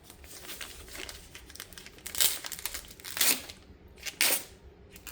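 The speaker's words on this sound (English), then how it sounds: "Some of this plastic's easier to open than others." Stiff plastic packaging on a DJI RC Pro controller crinkles and tears as it is pulled open, with steady rustling and three louder ripping bursts close by.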